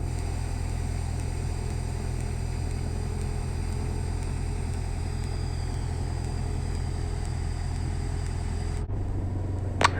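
Steady low propeller-engine drone from a small airplane taxiing toward runway 31 at Grant County airport, a continuous rumble at constant loudness with a slight change near the end, no talk.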